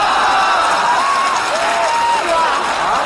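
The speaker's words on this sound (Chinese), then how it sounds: "此地有雷鸣般的掌声" An audience at a televised comedy sketch bursts into loud, continuous applause mixed with cheering and whistles. It forms an unbroken roar close at hand with no pauses.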